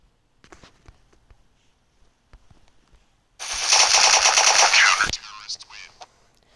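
Automatic gunfire in the Special Forces Group 2 video game: one loud, close burst of rapid shots lasting over a second and ending abruptly, preceded by quiet footsteps and soft clicks.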